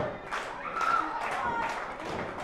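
A wrestling event crowd claps in bursts, with a close rhythmic clatter of hands, while a commentator talks over it.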